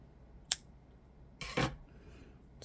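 Scissors snip through yarn from a loom-knit pony hoof, one sharp close cut followed a second later by a longer rustling snip, with a faint further click at the end.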